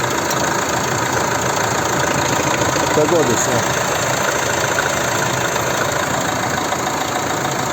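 A steady, loud 2.0 Multijet diesel engine of a Fiat Freemont AWD idles close by with a constant rumbling clatter, unchanging throughout, while a brief spoken word is heard.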